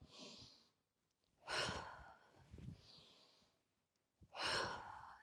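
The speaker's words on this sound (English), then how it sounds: "feel free to breathe out through your mouth" Deep breaths during a yoga strength session, with two strong, close exhalations through the mouth and softer inhales between them, no talking.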